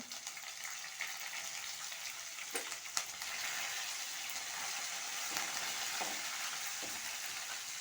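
Curry leaves sizzle and crackle in hot oil in a pan while sabakki khichdi is cooked, a steady, fairly loud frying hiss with a few soft clinks and stirs and no voice over it.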